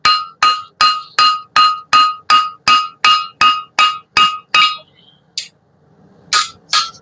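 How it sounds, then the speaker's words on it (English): A hammer strikes hot welded metal while making a fire poker, in a quick, even run of about a dozen sharp ringing blows, followed by a pause and then a few more loud strikes. "Just got to hammer a few of them in to get them to set real good."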